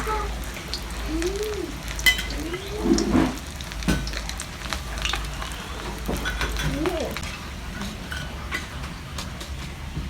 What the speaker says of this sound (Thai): จะทอดให้เหลืองนะคะ ถึงเหลืองแป้งกรอบนิดๆนะคะ